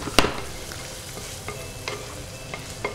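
Ham fries in olive oil in a pan with a steady sizzle, interrupted by a sharp scrape of stirring near the start and a few softer clicks later on, with no talk.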